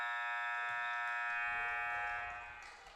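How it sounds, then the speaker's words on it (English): A basketball game buzzer at a tournament gives a steady sustained electronic tone that holds for a few seconds and then fades, with faint gym noise underneath. "failed to get it off before the buzzer sounded"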